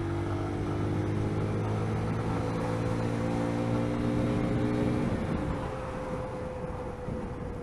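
A Lexmoto ZSB motorcycle accelerates to overtake a van, its engine a steady, climbing hum with strong wind rush from onboard, the tone holding then dropping away after about five seconds.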